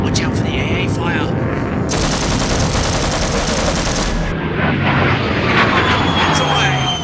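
Anti-aircraft fire in a space air-combat video game: dense, continuous rattling gunfire mixed with roaring aircraft engines, with a loud sustained tone cutting in for about two seconds mid-clip.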